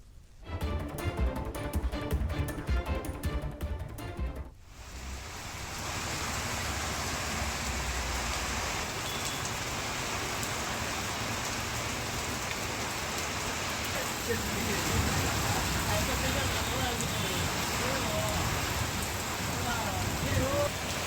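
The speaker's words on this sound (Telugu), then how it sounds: "భారీ వర్షాలు పడుతున్నాయి" Heavy monsoon rain from a low-pressure system in Andhra Pradesh pours steadily in a dense, continuous hiss after a brief burst of music at the start; no voices are heard.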